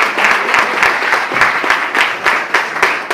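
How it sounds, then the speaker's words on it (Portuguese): A church congregation applauding together, a dense, steady wash of many hands clapping loudly and close, with rhythmic peaks running throughout. "Só quem crê e aplaude o nome do Senhor Jesus e glorifica a Deus."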